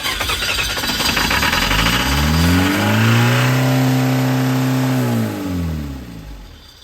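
A sailboat's engine, started after its fuel pump is switched on, cranks and fires, then revs loudly and very high, its pitch climbing, holding, and falling again as the run winds down, close and alone.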